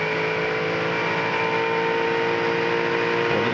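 Garth Tander's racing car at Phillip Island, a 2001 Shell Championship Series touring car, heard on board as a loud, steady engine drone at constant revs for the whole stretch, with no talking.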